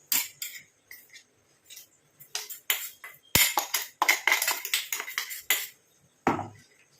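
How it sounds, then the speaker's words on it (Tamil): Ground mustard and black cumin powder sifted onto a plate, heard as a series of short, close scraping and tapping bursts from the sieve, with brief clinks in uneven rhythm and pauses between. "இந்த தட்டில் நான் சலிச்சு எடுத்துக்கிறேன் எல்லாத்தையும்."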